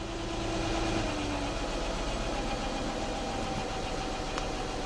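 A 2004 Nissan Maxima 3.5 engine with a lean fault on both banks runs close and steady, its pitch rising as gas is given, then settling into a constant hum.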